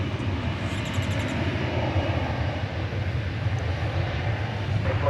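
Airliner arriving from Haneda Airport in Tokyo passing overhead at roughly 3,000 feet near DFW Airport, a steady broad jet roar that holds loud throughout with a faint high whine.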